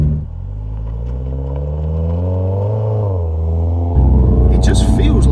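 A Cosworth supercharged Toyota GT86 engine drones and then revs up loudly, its pitch rising and falling before a harsh, gritty roar kicks in close by.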